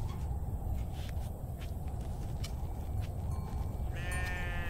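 Sheep from a flock of about sixty that has gone three days without water bleat in a rural setting, with a clear wavering bleat near the end over a steady, dense background rumble.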